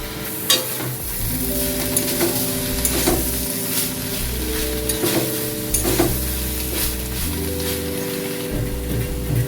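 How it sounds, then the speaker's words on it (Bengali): Fried prawns are stirred into cabbage curry frying in a pan, with a steady close sizzle under repeated scraping stirs of the spoon and a background hum, and no talk. "ভেজে রাখা চিংড়ি মাছগুলো দিয়ে দিচ্ছি"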